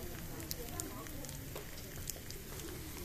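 Food sizzles on a grill at a barbecue restaurant in Seoul, a steady, dense crackle with small pops, with faint background chatter from the dining room.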